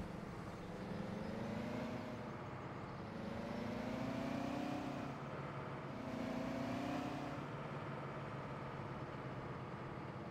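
Tractor engine revving in Farming Simulator 17, a steady loud drone rising and falling in pitch through several rev cycles, with no talk over it.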